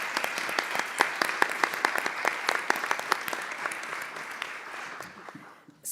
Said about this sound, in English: Please, let's give this impressive panel another round of applause.